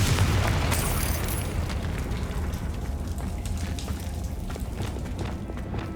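A Confringo fire spell explodes in the Hogwarts Legacy video game, opening with a loud, close boom that decays into a long crackling, rain-like rumble.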